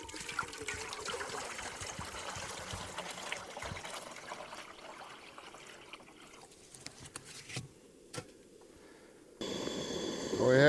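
Water pouring into a big pot on a Jetboil Genesis Basecamp camp stove: a steady trickling splash runs for several seconds, then thins out and stops, followed by a brief louder clatter at the end.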